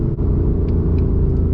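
A 2020 Ford Mustang GT V8 fitted with a Borla exhaust cruises at night, its deep, even exhaust rumble droning steadily from inside the car for a brief moment with no talk.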